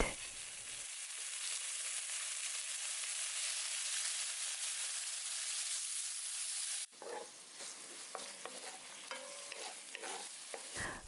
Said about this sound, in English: Heat a pan with oil and ginger, 20 grams of ground pork, 1 tablespoon of cooking wine, and stir fry until it turns white.